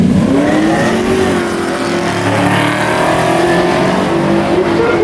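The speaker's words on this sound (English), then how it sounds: "just give us nothing but perfect wheel stands every time in that Dorado." A Holden Dorado drag car revs and roars at a drag strip, its engine note rising in a loud sustained wail as it accelerates, heard alone without talk.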